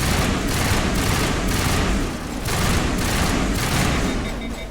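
Dense sci-fi combat from the video game Mass Effect roars continuously, with overlapping gunfire bursts and rocket blasts pulsing in rapid waves, loud and unbroken with no talk.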